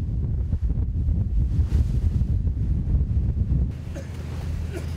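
Rough, heavy sea and strong wind buffet a fishing boat out on the water at night, with a steady low roar of waves and gusts that never lets up and then eases slightly near the end.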